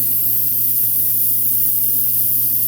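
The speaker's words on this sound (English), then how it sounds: "put this in my airbrush real quick, and spray it on my little pad of paper over here that I have as a kind of where I test my spray" Airbrush spraying paint onto a small paper test pad, a steady, close, continuous hiss that runs without a break and with no voices.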